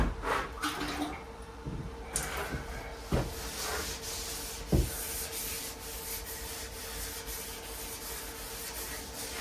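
Sandpaper rubs along the edge of a 32 Coupe car body during bodywork prep, making a steady, close abrasive hiss with a few sharper strokes and no talking.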